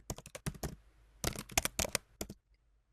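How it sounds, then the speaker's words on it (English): Typing on a computer keyboard: bursts of quick, crisp key clicks close by, pausing briefly before another rapid run of keystrokes, with no talk. "I'm going to type these."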